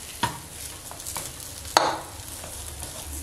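Bedmi poori fries in hot oil in a kadai, giving a soft continuous sizzle with occasional clinks and scrapes of a utensil against the pan, heard up close.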